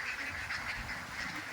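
A flock of ducks on a duck farm quacks and honks continuously at a moderate distance, overlapping calls forming a steady background chatter.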